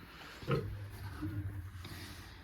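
Young piglet of about 3.5 to 4 kilograms grunting on a farm, a few low snorting grunts close by, one louder burst near the start followed by softer rumbling grunts.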